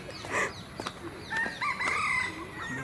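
Birds call and crow outdoors in Singapore, with a rooster-like crow and several chirps and clucks overlapping at moderate distance.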